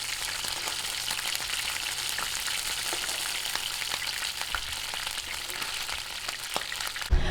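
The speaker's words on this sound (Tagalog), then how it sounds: "atay ng manok. Ipiprito din po natin" Chicken liver frying in a pan while making chicken sisig, a steady dense sizzle that runs the whole time, with light scattered crackles and a louder pop right at the end.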